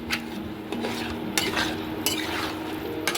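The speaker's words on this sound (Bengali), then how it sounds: "এবার এটা আমি ভালো করে কষে নেব।" Roasted elephant yam is stir-fried with spice paste in a pan, the spoon scraping and pushing in a handful of distinct strokes over a low, steady sizzle, heard up close with no voices.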